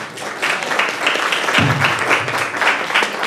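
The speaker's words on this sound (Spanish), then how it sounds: "Doctora Abril Luche, les pido un fuerte aplauso." Audience applause at a Spanish-language neuropsychology event, steady dense clapping for several seconds, with a low voice briefly heard partway through.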